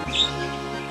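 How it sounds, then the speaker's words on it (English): A pet parakeet gives a brief, thin chirp once in the background, faint and high against a steady room hum, with no talk. "If you hear chirping in the background, that's because I have a parakeet."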